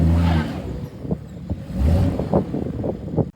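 A BMW xDrive car on bald tires, stuck in a snowy driveway, revs its engine in uneven surges and drops, loud and close with wind buffeting the microphone.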